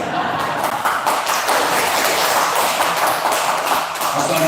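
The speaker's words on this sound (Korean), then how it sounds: "이럴 때 박수가 좀 나와야 돼요" A church congregation applauds during a Sunday sermon, a steady, dense wash of clapping that fills the whole stretch at an even level without a break.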